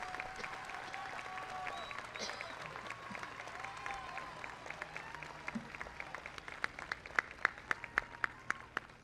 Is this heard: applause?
yes